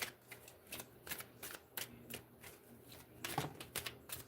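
A deck of cards being shuffled close up, a run of crisp riffling bursts and flicks in irregular rhythm, quiet and alone with no talking.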